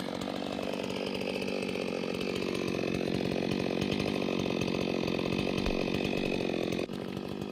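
A chainsaw lubricated with vegetable chain oil runs loud and steady the whole time, its engine droning close by with a harsh, buzzing rasp and no pauses.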